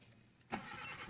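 Brief quiet, then a 1996 Honda Civic LXi engine cranks and catches, rising into a close, steady running roar.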